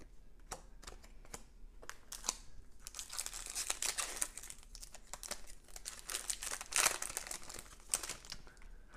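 Ultimate Masters trading card booster pack wrappers are torn and crinkled open, with bursts of close, crisp foil crackling and rapid ripping that grow busier and louder midway, in the quiet with no talk.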